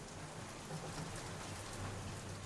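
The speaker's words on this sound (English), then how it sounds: "Here's some rain," Steady rainfall from a storm, a dense continuous hiss of drops falling on surfaces, evenly loud throughout with no voices or thunder.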